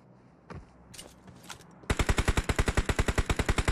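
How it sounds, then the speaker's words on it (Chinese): UMP45 submachine gun fire in a PUBG-style shooter: a few scattered shots and thuds, then a loud, rapid unbroken burst of evenly spaced automatic rounds close by. "枪声再一次的激烈起来了"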